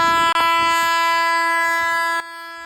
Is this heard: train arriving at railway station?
yes